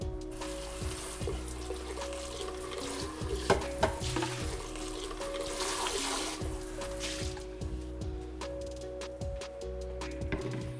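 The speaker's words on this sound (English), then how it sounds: "just rinse out the blender that you use" Running tap water splashes into a blender jar, steady and close, with occasional knocks and clinks of the jar being swirled under the stream.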